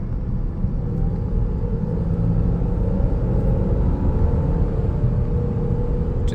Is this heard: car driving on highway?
yes